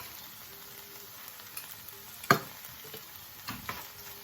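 Ground coriander, cumin and turmeric fry with onions and tomatoes in a pan for a curry, giving a soft, constant sizzle with a few scrapes and clacks from stirring.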